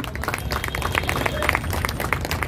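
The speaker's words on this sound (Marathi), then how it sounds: "दादांसाठी जोरदार टाळ्या झाल्याच पाहिजे" An audience claps at a public lecture: a short, dense burst of applause from many hands, lively and continuous with no voices over it.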